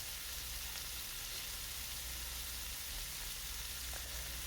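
Water poured onto tomatoes in a hot pan sizzles loudly and steadily, a dense continuous hiss with no voices.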